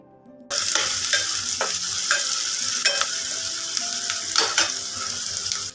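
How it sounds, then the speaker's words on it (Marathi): Chopped onion frying in oil while being stirred, a steady close sizzle with repeated scraping stirs throughout, no voices. "कांदा छान भाजून द्यायचा आहे तेलामध्ये"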